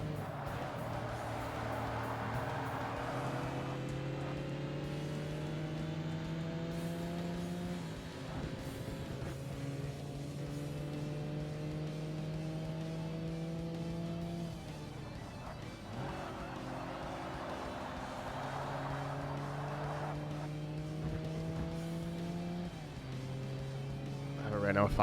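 A Renault 5 Turbo revs hard in the Xbox racing game Forza Motorsport, its engine note climbing through repeated gear changes in steady, loud sweeps that run continuously from start to finish, with a person talking over it.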